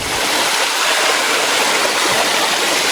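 Stream water flows steadily on a rough outdoor trail, a constant bright rushing hiss that stays loud and unbroken throughout, with no speech.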